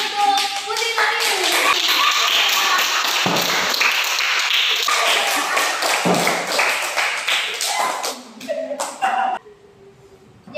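Students clap for a classmate named Udin in a classroom, a dense burst of hand clapping that runs for several seconds and then thins out, with children's voices in the background.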